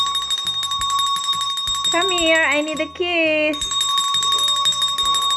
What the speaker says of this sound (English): Tapos, we have this bell. Kiss for a ring.